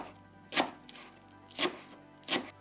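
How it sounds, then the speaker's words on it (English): Green onion being minced with a knife on a board, three crisp chops spaced about a second apart, close and clear against quiet. "Mince 100 grams of green onion, only use the green part."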